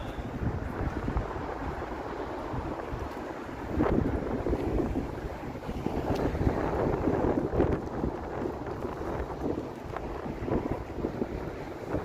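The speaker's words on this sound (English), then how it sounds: "It's windy here." Strong wind buffets the microphone in a continuous low roar on a Toronto street near Bloor Street in late November, gusting harder partway through; no voices.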